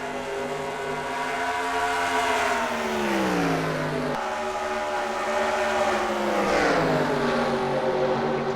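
Race cars in an Atlanta heat race rev hard as they slide through the turns. Loud engine whines rise and fall in pitch as each car passes, with two main sweeps and continuous track noise.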